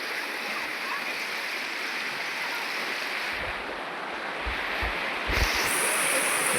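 River water rushes steadily at a village bathing spot, a continuous broad wash with a few low thumps and buffets near the end.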